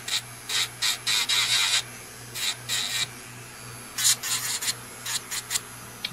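Short bursts from an electric nail file buffing the surface of gel nail tips, coming in uneven pulses with brief pauses over a steady low hum, close up and without talk.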